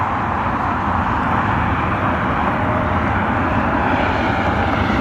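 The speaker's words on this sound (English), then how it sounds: "Evo Blue 737-800 for United." A United Boeing 737-800 airliner flies past a Cleveland spotting location, a loud, steady broadband jet roar that holds evenly for the whole stretch with no voices.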